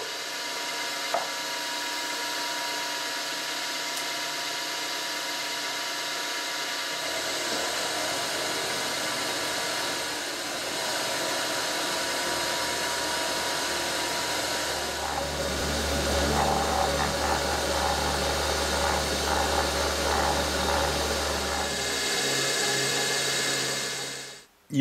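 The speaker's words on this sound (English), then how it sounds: "Running a 4-flute high-speed steel end mill coated at 580 RPM with power feed, of course." Milling machine running a coated 4-flute high-speed steel end mill at 580 RPM under power feed, giving a steady, continuous mechanical hum and whir that grows slightly denser and louder midway, close and unbroken.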